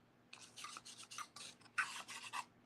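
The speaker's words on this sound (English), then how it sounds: "you would actually sand off the paint because look at all that" Lower grit sandpaper rubs paint off a craft surface in a handful of short, quiet back-and-forth scrapes, close up and alone.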